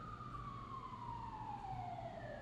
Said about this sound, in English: Maybe let's talk about the injuries when we got this siren